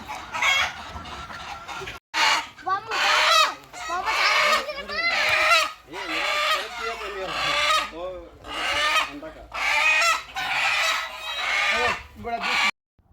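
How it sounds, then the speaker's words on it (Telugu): Free-range country chickens on a vegetable farm cluck and squawk in repeated close bursts, with a rooster-like call among them and people talking intermittently. "అక్కడ నాటుకోళ్ళు అయితే ఉన్నాయి"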